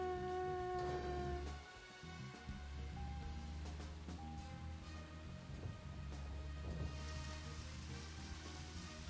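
Rain falls in the video game Deadly Premonition, a soft constant wash under low sustained tones and game music, with faint rumbles and no voices.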